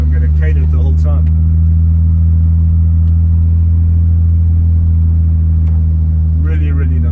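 A 1985 Mercedes-Benz W123 280E with automatic transmission drives along, its engine giving a loud, steady, low droning rumble from inside the cabin, with someone briefly talking over it at the start and end.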